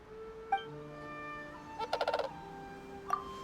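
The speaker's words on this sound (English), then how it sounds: "If those noisy birds woke you up, I'll go silence them right away." Noisy birds in Genshin Impact give short gobbling, turkey-like calls, with a quick burst of rapid repeated notes in the middle and a few brief calls around it over a quiet tonal game background.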